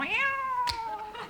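A cat gives a single clear, close meow with a rising then falling pitch, brief and distinct against a quiet background.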